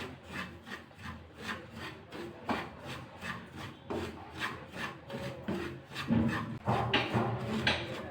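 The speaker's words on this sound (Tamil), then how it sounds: "1 கப்பு ரவை சேர்க்குறேன். வறுத்து எடுத்துக்கலாம்." Dry semolina (rava) is roasted in a pan, with a spoon rubbing and scraping through the grains in quick, rhythmic strokes, close and moderately quiet.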